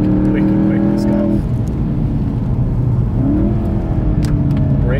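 A VW Golf accelerates hard in custom sport mode with paddle shifts, its engine climbing in pitch, dropping briefly at a gear change and then climbing again, loud and close from inside the car, with no clear talk.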